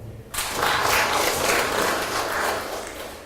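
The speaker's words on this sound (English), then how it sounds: "Thank you for that group, we can clap for them." A room of men at a Catholic association formation class breaks into clapping after a brief murmur, the applause swelling quickly and continuing steadily at close range before easing slightly.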